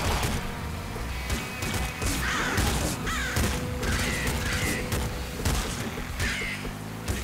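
Ravens caw in the video game Nuclear Throne, harsh calls breaking out repeatedly amid a dense wash of gunfire, crashing impacts and game music, loud and busy throughout.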